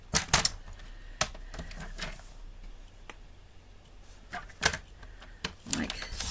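A card base being trimmed for a Stampin' Up! craft, sounding as a series of sharp clicks and ticks with sliding scrapes between them, close and fairly loud over a steady background hum.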